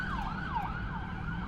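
Emergency vehicle siren wailing steadily and fairly loud through the whole stretch, its pitch sweeping up and down in repeated cycles over a low traffic rumble, no talk.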